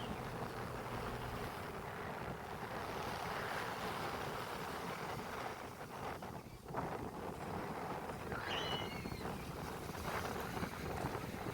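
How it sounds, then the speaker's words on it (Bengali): Heavy surf and wind-driven waves on the Arabian Sea coast roar continuously in strong wind, with broad steady noise throughout and brief gusty swells, no voices. "সমুদ্রে কিছু গর্জন শুনুন"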